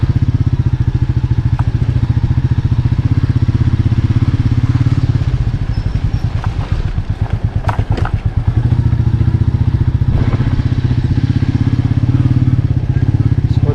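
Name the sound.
Royal Enfield Meteor 350 motorcycle engine running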